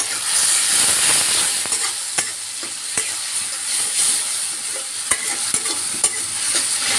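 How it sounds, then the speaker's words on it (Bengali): Spices cooking with onion and tomato in a pan sizzle loudly and continuously, while repeated sharp clicks and scrapes of a stirring spoon tick through the frying and no voices are heard. "এখন আমরা পেঁয়াজ আর টমেটোটাকে মশলার সাথে কষিয়ে নেব কিছুক্ষণ।"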